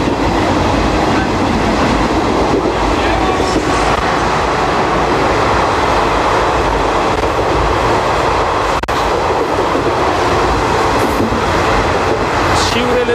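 Garib Rath Express passenger train running at speed near Kurla, Mumbai, with a steady loud rumble of wheels and carriage noise throughout, a faint voice briefly underneath.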